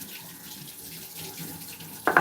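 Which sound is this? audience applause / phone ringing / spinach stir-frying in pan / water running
water running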